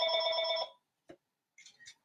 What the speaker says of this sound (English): There goes my home phone.